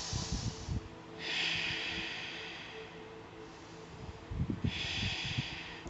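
Slow, deep breathing during a yoga Navasana boat pose: long airy inhales and exhales alternate close to the mic, with soft rustling of movement between breaths.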